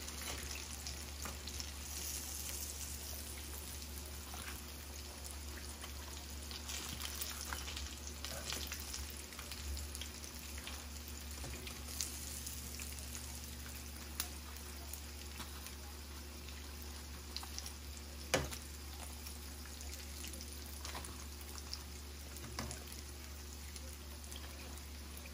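Chicken frying in oil for a home-cooked lunch, a steady dense sizzle with scattered small pops and crackles under a low hum, continuous and fairly close.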